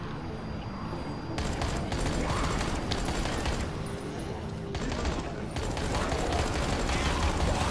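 Sustained rapid gunfire from Dying Light: The Following, dense bursts of shots layered over one another at close range for the whole stretch, with talk mixed in.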